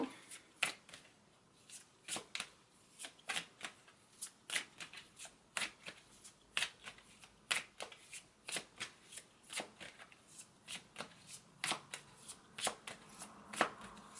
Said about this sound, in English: I'm going to shuffle this deck some more.